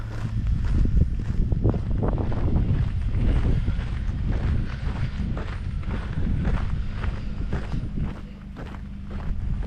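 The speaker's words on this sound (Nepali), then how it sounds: "चिसो हावा र स्नो यो फुरफुर उडेको यो" Cold wind gusts across the microphone on a snowy day while walking outdoors through a residential community in Haslet, a steady loud roaring rush with crunching footsteps mixed in and no talk.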